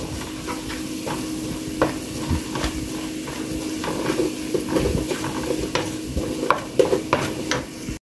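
Turmeric, chili powder and spices frying in oil for pumpkin fry, a continuous close sizzle with frequent scraping and stirring clicks of a spatula against the pan, growing busier toward the end, no talking.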